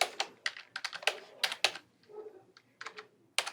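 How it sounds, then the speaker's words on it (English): Someone types a password on a computer keyboard at a sign-in screen, a close series of crisp key clicks in quick irregular bursts with short pauses, heard without talking. "you can just type it in using the keyboard"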